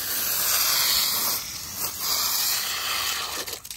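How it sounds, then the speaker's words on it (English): A spray bottle hisses almost continuously as it soaks a dog in heavy mist, the spray loud and close with short breaks between squeezes. "Yeah, I'll spray you."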